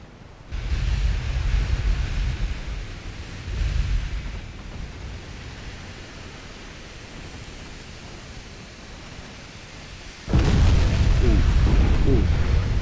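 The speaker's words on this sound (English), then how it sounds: "There's a torpedo hit." Torpedo hits on warships in the Ultimate Admiral Dreadnoughts naval battle game, heavy rumbling surges of noise over a steady sea-like wash, with a louder, sustained blast bursting in near the end.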